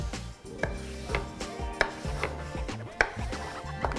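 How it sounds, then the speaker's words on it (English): Potatoes for fries being cut with a new knife on a board, a series of crisp close chops at an uneven, roughly half-second pace, clear and without speech. "Now we're gonna cut up some potatoes for the fries."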